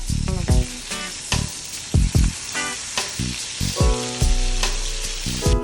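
Half a stick of butter sizzles loudly in a pan over high heat, a steady crackling hiss broken by sharp clanks and taps of a utensil against the metal, with no talking.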